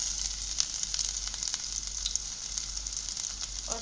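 Ginger paste fries in hot oil in a pan. The steady, crackling sizzle carries faint stirring ticks throughout, with no one speaking.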